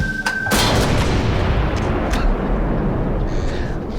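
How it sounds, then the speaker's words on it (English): A 6-inch Mark 7 gun, a historic British coastal artillery piece, firing: one sudden heavy boom followed by a long rumbling, broadband roar that fills the rest of the moment. "I have just fired one of the only 2 working 6-inch Mark 7 guns in the entire world"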